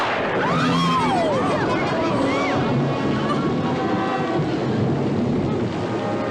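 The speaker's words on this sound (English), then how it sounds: "it doesn't seem to be raining anywhere but here" Heavy rain pours down steadily from a dark cloud, with a thunder rumble and a dense wash of noise, while whistling tones slide above it.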